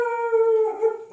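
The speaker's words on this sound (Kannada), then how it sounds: "ನಮ್ಮ ನಾಯಿ ಬೊಗಳ್ತಾ ಇದೆ ಯಾರು ಅಂತೇಳಿ" A pet dog gives a single drawn-out, tonal howl-like cry, close and fairly loud, lasting about a second with a slight dip and rise near the end.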